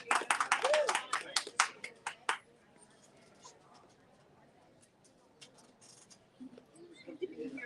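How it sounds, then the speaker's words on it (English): An audience gives a short burst of applause at a book-festival booth, dense clapping for about two seconds that stops abruptly, followed by quiet room noise and a few faint scattered claps. "A round of applause."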